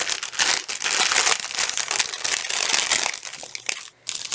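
Plastic packaging bags holding sanded wood slices crinkle and crackle loudly and close up as they are handled, a dense, continuous rustle with a brief dip near the end.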